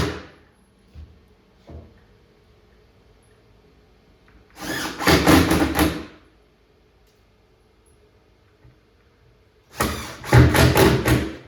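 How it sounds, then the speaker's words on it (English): Screws are driven into pine wood with a power drill on a Pac-Man arcade cabinet build: two short, loud whirring bursts of a couple of seconds each, separated by quiet with faint knocks. "These 6 screws, I'm not going to worry about the countersinking bit because this is pine"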